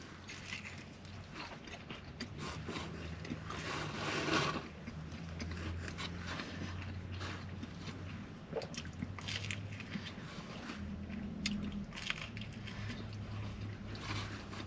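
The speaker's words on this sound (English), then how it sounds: "That was a very crunchy and chewy piece of bacon." Close, continuous crunching and chewing of a bite of crunchy, chewy bacon on a spicy perogy pizza from a Boston Pizza restaurant, with no talking.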